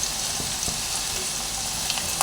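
Garlic hits hot oil for chicken 65 chilli, after the chicken pieces have already been fried, giving a steady, close sizzling hiss that holds evenly throughout with no voices.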